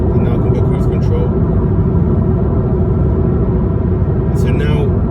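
A 2012 Alfa Romeo Giulietta cruises under 2000 rpm on cruise control, heard from inside as a steady, loud, low rumble of tyre roar and wind noise that holds constant throughout.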